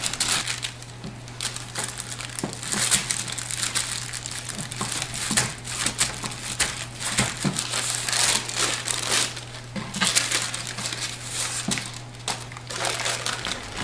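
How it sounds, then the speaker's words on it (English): Burger patties pressed flat between two sheets of wax paper for a patty melt, giving steady close crinkling and crumpling of paper with soft pressing thumps, over a low constant hum. "Wax paper is good. Just flatten them out."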